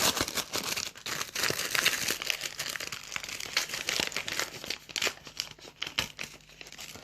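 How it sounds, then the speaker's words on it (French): Mailed packaging for a Wise Visa bank card is unwrapped up close, with loud continuous crinkling and crumpling of paper and plastic, broken by a few sharp tearing bursts. "Donc je vais déballer tout ça et nous allons faire ce déballage."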